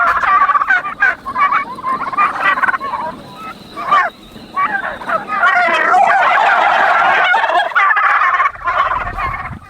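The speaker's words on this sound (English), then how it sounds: "Oh, turkeys." Turkeys on a pasture-based meat farm gobble loudly and close by, a flock calling in overlapping bursts almost without pause throughout.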